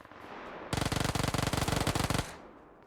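Rapid automatic gunfire from a PUBG Lite match, a loud, dense burst of evenly spaced shots lasting about a second and a half, starting abruptly after quiet game ambience and cutting off just as sharply.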